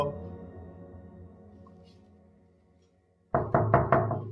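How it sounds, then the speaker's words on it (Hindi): Knuckles rap on a door in a quick burst of four or five loud, close knocks after a stretch of near silence. "अरे 10 दफा नॉक किया, खोल ही नहीं रही दरवाजा।"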